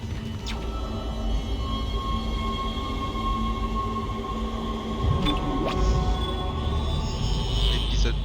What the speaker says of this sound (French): Allez, on repart dans le tram.